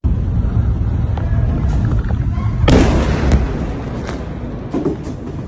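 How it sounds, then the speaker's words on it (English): A bomb strikes Israel in a sudden loud blast that rolls into a long rumble, set against steady wind and low roar throughout. "That was a bomb that landed on Israel recently."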